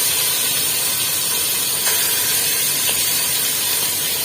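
Meat sizzles and hisses steadily in a hot pot as it sears for stuffed cabbage rolls, a loud continuous close-up frying noise with no talking.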